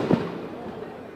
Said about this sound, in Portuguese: que estão soltando esse rojão bem fraquinho aí, tac, tac